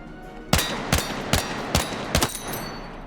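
Rapid bursts of SGX submachine gun fire in Battlefield 6, five or six sharp, loud shots spaced unevenly about half a second apart over a steady background hum, with no talking.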